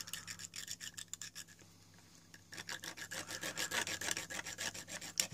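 A Master Tools mini razor saw cuts through a plastic model sprue in quick, rhythmic back-and-forth rasping strokes, close and fairly quiet. There is a short pause before faster, louder sawing resumes.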